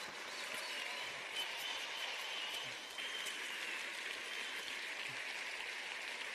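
Steady, dense applause from an audience at a faith event, quiet and somewhat distant, filling the whole stretch as an even wash of clapping without voices.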